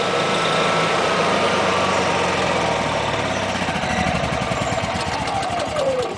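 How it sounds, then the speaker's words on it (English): A portable generator engine runs steadily at a loud, close idle, its broadband rumble holding for about six seconds with a faint falling whine near the end as it begins shutting down. "Go ahead and shut the generator back off again."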